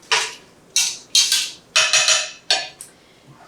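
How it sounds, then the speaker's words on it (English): A spoon scraping and clanking against a pot while pork posole stew is stirred, a series of about seven short metallic knocks in an uneven rhythm, close and clear with no talking. "we'll stir that around"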